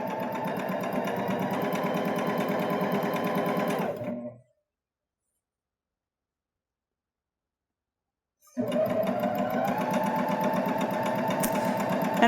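A Baby Lock Jazz II sewing machine stitches custom piping in a steady, close mechanical whir that runs for about four seconds, stops for a few seconds of silence, then starts up again.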